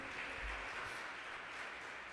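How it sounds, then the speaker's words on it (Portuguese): A church congregation applauds during a sermon, a faint, steady wash of many hands clapping together for the whole stretch with no voices over it. "Irmãos, vamos aplaudir ao Senhor."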